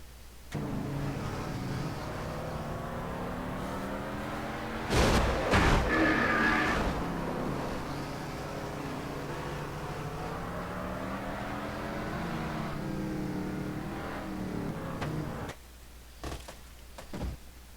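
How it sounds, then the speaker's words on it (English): Onboard race car engine in a NASCAR racing game, a continuous near droning roar with shifting pitch as the car accelerates and brakes, growing louder around mid-run before dropping off, with no talk. "On board Jessica Shelton's car"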